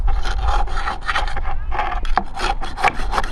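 Metal tweezers scraping broken-down, gritty akadama soil out of a thin bonsai pot, with close, rapid rasping strokes repeated in short bursts and no talking.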